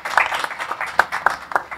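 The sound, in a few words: audience applause for speaker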